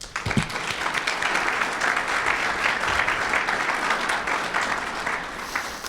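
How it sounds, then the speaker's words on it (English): Steady, full applause from the audience at a law school alumni and faculty scholarship luncheon, honouring its partners, a dense even roar of clapping held for several seconds at close range. "Please join me in a round of applause for our generous partners"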